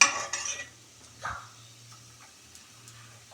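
Sambar powder and Kashmiri chili powder being sautéed in a pan, with a spoon scraping and clinking against the metal, a soft background hum, and a few quiet stirring knocks.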